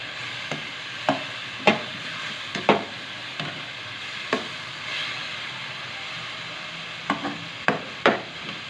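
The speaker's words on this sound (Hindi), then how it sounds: "और इन्हें अच्छी तरह फ्राई कर देंगे" Garlic paste and ginger powder frying in a pan, a steady soft sizzle with light scraping stirs at irregular intervals, no voices.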